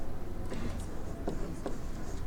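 Chalk or marker scratches in short strokes as an equation is written out on a classroom board, faint and close in a quiet room.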